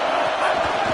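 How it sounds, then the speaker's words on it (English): Stadium crowd in an NCAA American football video game, a dense, loud roar of many voices swelling briefly as the home defense is urged on in the red zone. "this crowd imploring its defense to stand firm"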